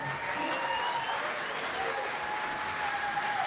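An audience at the Mountain Stage radio show applauds as a singer is welcomed, giving a steady, even wash of applause with no clear breaks, while a host's voice carries on over it.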